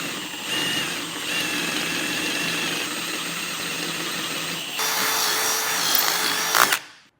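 A power drill bores a 1/2 inch hole for a Curt QuickPin trailer coupler, whining steadily at close range, then surging louder as the bit bites deeper before cutting off abruptly.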